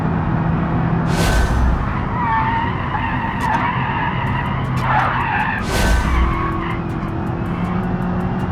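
Car tires skid and squeal under the handbrake in the BeamNG driving game, with two loud screeching bursts over a continuous engine drone and a scatter of sharp clicks.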